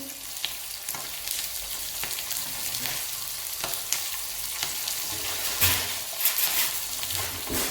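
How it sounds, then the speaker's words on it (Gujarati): Curry leaves and green chillies sizzle and crackle steadily in hot oil, added after mustard seeds, cumin and asafoetida for a khaman tempering, close and continuous with occasional louder pops and no talk. "મીઠા લીમડાના પાન નાખીશું લીલા મરચાં નાખીશું"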